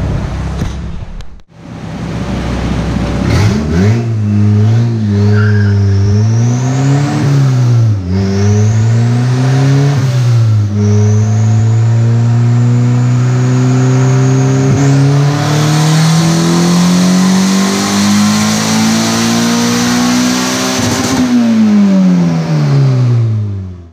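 A 1986 Honda CRX with an LS-VTEC turbo engine revs hard on a dyno, several rising pulls and then a long loud sweep up through the rev range before cutting back, close and alone.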